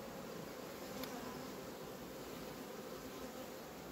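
Honeybees buzz around a hive frame holding brood, a dense, steady drone of many insects close by that holds an even level throughout.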